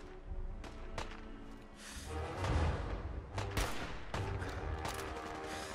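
Gunfire crackles in the Fallout 4 video game, with repeated sharp shots and bursts of varying loudness over a continuous background rumble.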